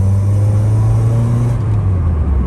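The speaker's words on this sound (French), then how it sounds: "Puis tu nous claques un petit coup de gaz là, un coup d'accélérateur." Carburetted 1981 Volkswagen Golf 1 cabriolet engine revving as the accelerator is pressed, a loud close low rumble with a rising then falling whine over a couple of seconds, no talk.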